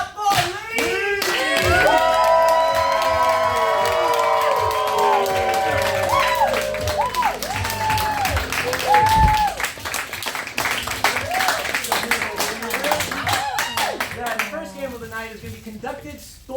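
A graduating class's audience at a showcase in a theater claps and cheers, a dense roar of applause with shouts and whoops that builds loud and then thins toward the end, with voices calling out over it.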